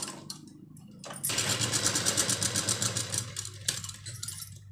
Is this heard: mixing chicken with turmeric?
no